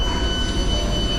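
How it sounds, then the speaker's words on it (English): A Tyne and Wear Metro train bound for Newcastle rumbles steadily nearby, a continuous broadband roar of wheels on rail with a faint high whine over it, no voices. "here we are, our metro service"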